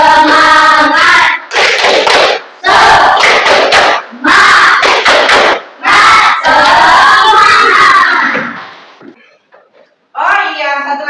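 A classroom audience of Indonesian teacher trainees does a rhythmic spirit clap, loud bursts of group clapping and shouting in counted patterns with brief gaps, a chant-like call rising between bursts, then a short pause before voices resume.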